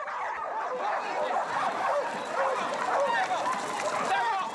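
Many nervous dogs at the start of a 9 km canicross race, a dense crowd of yips, barks and whimpers over runners' bustle, with people talking throughout.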